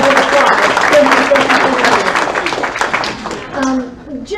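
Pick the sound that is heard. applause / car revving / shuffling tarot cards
applause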